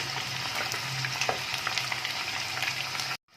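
Chicken pieces for hot garlic chicken fry in oil with a steady, dense sizzle and occasional pops and crackles, close up, before cutting off abruptly.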